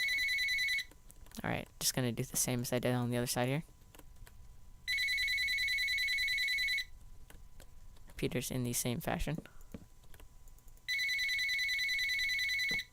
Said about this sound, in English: That's the phone ringing.